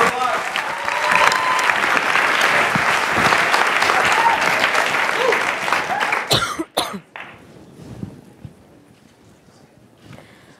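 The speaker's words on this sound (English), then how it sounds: "Let's get a big round of applause." Loud, sustained applause from a large audience for several seconds, then dying out into scattered claps, a cough and quiet room noise.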